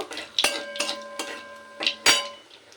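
A dry red chilli and black cumin seeds are stirred in hot oil in a pan, heard as a handful of sharp metallic clinks and scrapes of a spoon against the pan, spaced irregularly and fairly close.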